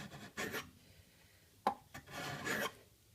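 A Lie-Nielsen block plane shaves a ridge off a wooden edge in a few short rasping strokes, close and clear, with a sharp knock between passes and no talking.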